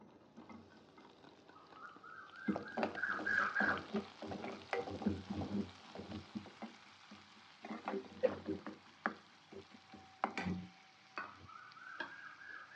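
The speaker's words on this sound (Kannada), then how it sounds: "ಈಗ ಆನಿಯನ್ಸ್ ಹಾಕೊತೀನಿ" Onions dropped into oil in a pan for palak paneer sizzle and crackle, with scattered clicks and spoon stirring that come and go over a quiet hiss. A faint tonal beep is audible at the start and end.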